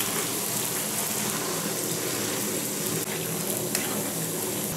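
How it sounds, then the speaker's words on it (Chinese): Sliced king oyster mushrooms deep-fry in hot oil with a dense, even sizzle and bubbling that stays constant throughout, with a faint clink near the end. "锅中油温烧至七成热，下入切好的杏鲍菇，炸至两分钟"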